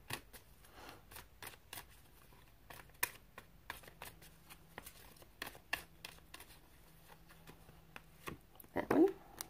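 Tarot cards being shuffled and drawn, heard as soft, close flicks and taps of card stock in a quiet, irregular series, ending in a brief rustle.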